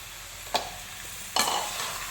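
Goat blood being stirred into cooked cabbage in a pan, giving two short scraping stirs against a soft, steady sizzle of frying.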